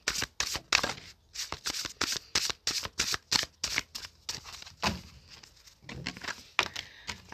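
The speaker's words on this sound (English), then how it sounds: "Let me go ahead and pull some of my personal cards here." A tarot deck shuffled by hand gives a fast run of crisp, close riffling and slapping bursts in an uneven rhythm, with brief pauses between handfuls.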